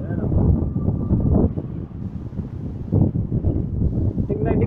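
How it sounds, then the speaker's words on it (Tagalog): Strong wind gusting during a tornado warning in Calgary, Alberta, a broad steady roar buffeting the microphone throughout, with a person talking under it. "alakas na ng hangin dito"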